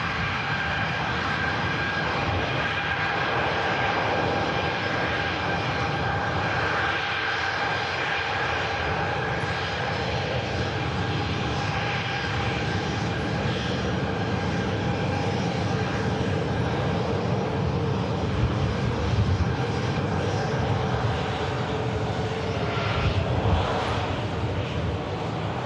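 Ryanair jet airliner taxiing close by at Manchester Airport, engines giving a continuous steady whine and rumble with sustained tonal hums throughout.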